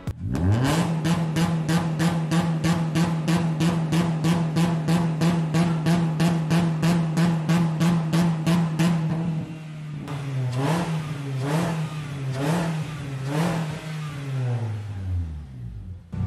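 A Honda Civic FD with a 2.0-litre K20 engine revs hard in rapid, even pulses for several seconds, then settles into slower, rising and falling revs, loud and close.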